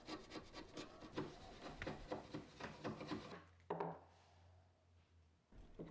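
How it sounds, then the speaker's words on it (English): Wooden half-lap joint pared clean with a chisel for a simple plant stand: repeated close scraping and rasping strokes in a steady rhythm, then a short quieter pause with a low hum before one more scrape. "I also took the extra time to clean up the joint with a chisel."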